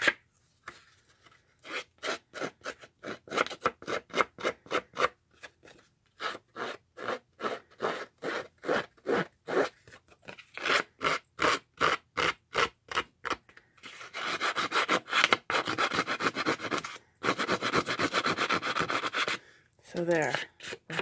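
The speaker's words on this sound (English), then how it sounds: "I want to scruff up the edges, and it's okay if it rips like that." Paper postcard edges are scuffed and roughed up for a grungy journal, producing close, rhythmic rasping scrapes in quick repeated strokes with brief pauses between them. A longer, denser run of scraping comes near the end.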